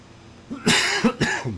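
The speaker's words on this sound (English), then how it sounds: "It's so cold, it's going to make me cough." A person coughs two or three times in quick succession, close and loud, out in cold air.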